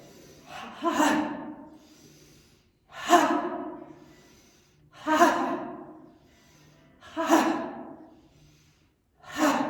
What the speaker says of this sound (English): bring it back on the exhale. Forceful exhale.